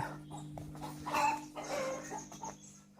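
Hens call near their chicks with a few short, moderately close clucks over a steady low farmyard hum.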